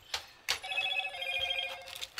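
A telephone rings during a casual live gaming and modding session, its electronic bell trill sounding after two short bursts and then holding steady for over a second, moderately faint with no talking over it.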